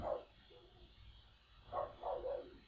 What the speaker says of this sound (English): There's a dog in here and there's a dog out there.